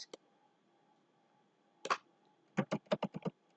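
Keys on a computer keyboard clack in a short burst, a couple of isolated taps followed by a quick run of about six strokes, close and crisp in an otherwise quiet room.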